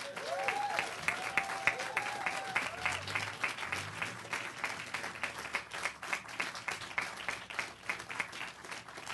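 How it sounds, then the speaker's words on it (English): A crowd outdoors at a building topping-off ceremony claps steadily for the construction and iron workers, a sustained, moderately distant round of applause with a few brief voices early on. "Let's give a resounding round of applause to everyone who's been working on this"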